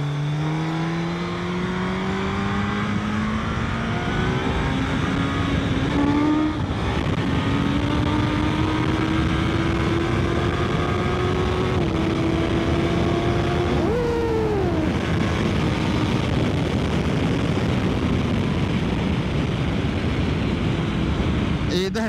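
A Suzuki GSX-S 1000 GX motorcycle on the road, its engine droning steadily and pitch climbing through the gears with shifts and a brief drop, loud and continuous under rushing wind.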